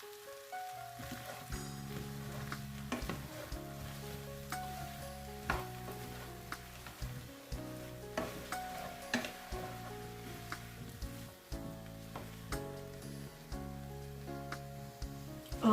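Ratatouille vegetables are stirred in a pan with fresh garden parsley and sage, giving soft scraping and clinking utensil sounds over a faint sizzle, heard alone against quiet background music.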